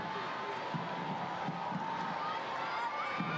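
A stadium crowd at a USA versus England women's football match fills the air with broad, steady cheering and murmur, with a commentator's voice heard faintly over it.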